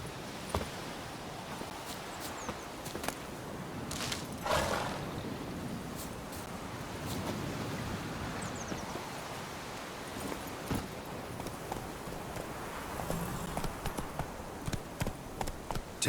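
Horse hooves clip-clopping at a steady pace in The Witcher 3, with even repeated footfalls over ambient outdoor rustle, no talk heard.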